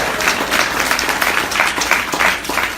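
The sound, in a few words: audience round of applause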